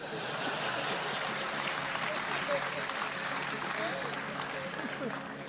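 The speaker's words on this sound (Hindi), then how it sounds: "और अब आपकी तालियां उठेंगी" An audience applauds at a Hindi comedy and poetry event, with broad, continuous clapping that holds steady for several seconds and carries no clear speech.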